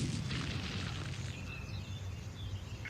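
Tank gunfire explosions from the tank video game Battle Tank roll on as a sustained, rumbling boom with crackling bursts, fairly loud and unbroken from start to finish.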